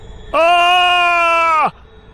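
A man lets out one loud, sustained scream in an animated Hindi horror story, a piercing tonal cry of over a second that begins sharply and trails off into quiet.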